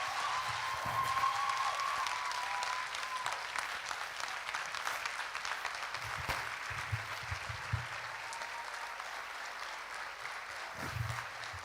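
A church conference audience applauds a pastor's sermon: sustained, fairly distant clapping from a large crowd, steady throughout with scattered louder claps and faint murmurs beneath.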